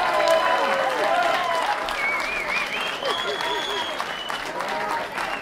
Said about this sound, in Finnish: Vielä aplodit.